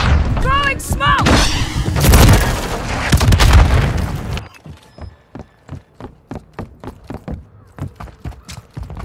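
Call of Duty MW3 multiplayer on a wasteland map: a loud burst of blasts and gunfire with shouted voices, then a steady rhythm of sharp, evenly spaced shots or impacts.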